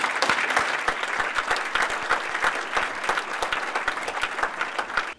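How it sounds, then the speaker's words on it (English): An audience at a university athletics gathering applauds, with dense, crisp clapping heard steadily for several seconds before it cuts off. "And I think you all deserve a round of applause."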